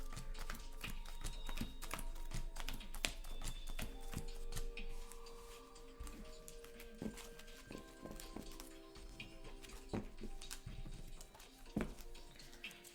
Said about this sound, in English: let's do some quick shuffling here